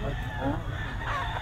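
A rooster at a gamefowl market gives a brief, faint call against steady background noise, lasting only a moment.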